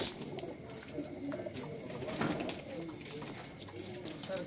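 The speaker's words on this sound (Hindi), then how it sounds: "यहाँ से लेके वहाँ तक सिर्फ कबूतर ही कबूतर भरे हुए हैं" Pigeons kept for flying cooing together on a rooftop in India, a continuous soft murmur of overlapping coos with occasional wing flutters, under some quiet talk.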